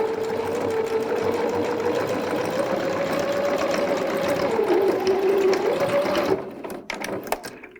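A sewing machine runs a fast, steady whirring stitch across a child's unisex jumpsuit, then stops abruptly, leaving a few faint clicks and handling sounds.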